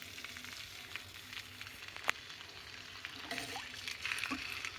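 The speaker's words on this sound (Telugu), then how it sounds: "నేనైతే చింతపండు గుజ్జు నీళ్ళల్లో కలుపుకొని వేస్తున్నాను." Tamarind pulp mixed with water poured into a hot pan for rasam, a faint, close sizzle with light crackles and one sharp click partway through, with no voices over it.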